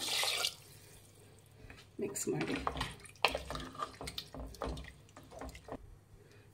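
A short splash of water poured into rice for chicken donne biryani, followed by a voice speaking with faint watery trickles and clinks underneath.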